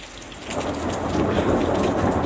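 Heavy rain pours steadily outdoors during a violent thunderstorm, a dense loud hiss with a deep rumbling of thunder building underneath and swelling toward the end.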